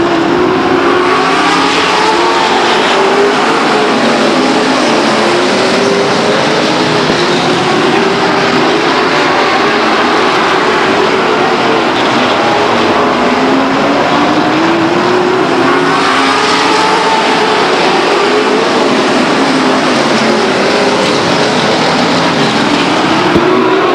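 Race cars circling the oval at Stockton 99 Speedway during a 1999 race, a continuous loud engine roar with passing cars rising and falling in pitch as they sweep by, no talk over it.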